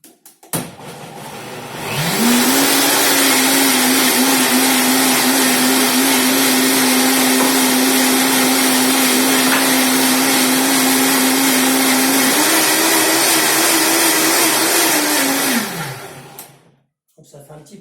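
A blender whirs loudly and steadily as it purees two handfuls of raw nettles into a potato and wild garlic soup. The motor spins up sharply, holds a constant drone, rises slightly in pitch late on, then winds down.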